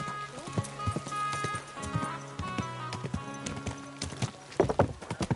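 Horse hooves clip-clop on hard ground in the video game Kingdom Come Deliverance 2, a rhythmic stepping gait with a whinny and short snorts, close and clear over a faint game background.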